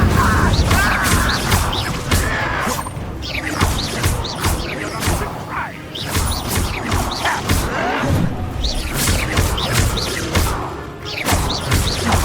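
Fire spells cast again and again in the Hogwarts Legacy wizard game, landing as repeated whooshing bursts and crashing impacts over a dense, continuous mix of game sound and music.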